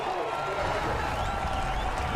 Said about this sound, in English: climbs out of the car and the crowd roars.